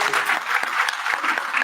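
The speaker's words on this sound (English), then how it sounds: "Huge round of applause, please." An alumni meet audience in Mumbai applauds during a felicitation on stage, a dense, loud burst of many hands clapping together, continuous and close throughout.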